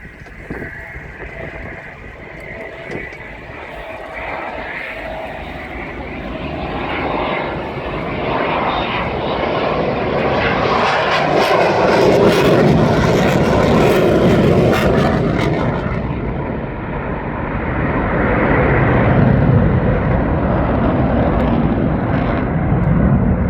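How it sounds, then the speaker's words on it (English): A C-130 transport aircraft lands at the RIAT air show, its loud propeller-engine roar building and swelling as it passes close, then easing and surging again, with no talk. "it's a safe landing for the C130"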